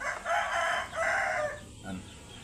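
Rooster crowing nearby, two drawn-out cock-a-doodle-doo calls in quick succession followed by a short cluck, fairly clear against a quiet background.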